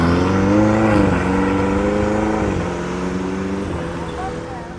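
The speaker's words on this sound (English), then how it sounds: "We'll just wait for it to pull away so you can get the engine noise" A Ferrari pulling away on the Palm Jumeirah in Dubai, its engine note rising then easing and fading slightly as the car moves off, fairly loud and close.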